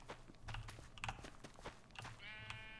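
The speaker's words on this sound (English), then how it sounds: "Hello, sheep. Would you like some wheat?" Minecraft sheep bleating in game, a few short faint bleats amid soft footstep-like clops from livestock nearby, quiet and without talk.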